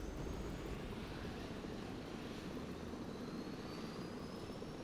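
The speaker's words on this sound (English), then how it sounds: "another helicopter as well" Helicopter in the video game Disaster: Day of Crisis, a steady loud rotor and engine roar with broad low rumble and a faint rising whine, continuous throughout.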